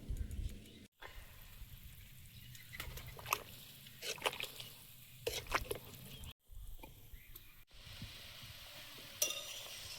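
A pot of jujube chutney with turmeric, water and jaggery syrup bubbles and sizzles quietly, with soft popping, sloshing and occasional stirring, close by and without talk.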